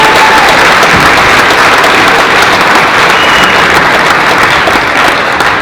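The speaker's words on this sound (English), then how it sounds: "Have a big round of applause for our 8th grade football middle school." A school concert audience gives 8th grade performers loud, sustained applause, a dense wash of clapping that stays full and even from start to finish.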